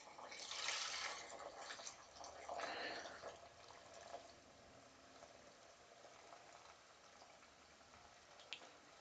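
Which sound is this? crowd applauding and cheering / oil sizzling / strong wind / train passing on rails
oil sizzling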